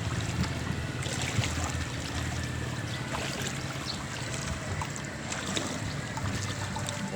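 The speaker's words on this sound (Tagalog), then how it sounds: "Laki po ng tubig oh." High floodwater flows steadily along a market route, a continuous broad rushing wash that stays even and fairly close for the whole stretch, with no voices over it.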